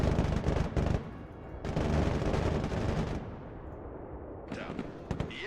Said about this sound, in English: Ooh, enemy artillery.